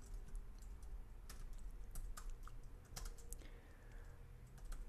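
Rapid, close keystrokes on a computer keyboard rattle steadily as a social media post is typed, with uneven bursts and louder taps over a faint room hum.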